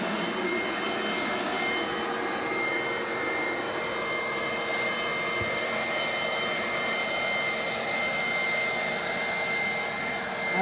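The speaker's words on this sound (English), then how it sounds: "so we can see which blower wins" Stihl and Greenworks leaf blowers run together outdoors in a contest, giving a steady, continuous high-pitched whine and rush of air throughout at moderate distance.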